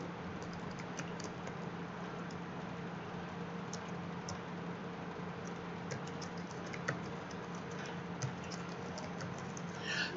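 Password keys being typed on a computer keyboard while a user account is set up, soft quiet key ticks scattered through a steady background hum, with no one talking.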